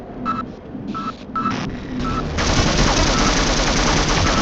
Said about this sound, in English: I can still hear their gunshots,